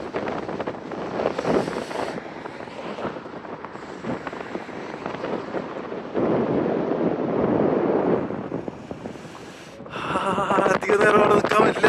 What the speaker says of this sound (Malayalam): തണുത്ത കാറ്റുകൾ അടിച്ചുകൊടുക്കുന്നത്, കൈയൊക്കെ വിറക്കുന്നുണ്ട്.